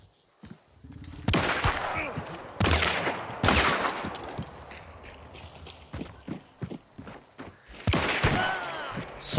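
Rapid bursts of Vetterli 71 Cyclone rifle fire with FMJ rounds in a shooter game, several loud broadband volleys separated by quieter stretches of footsteps and game ambience.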